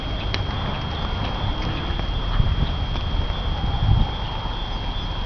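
Horse hooves clip-clop in an irregular rhythm across muddy ground at a riding stable, with a steady electrical hum and outdoor noise throughout.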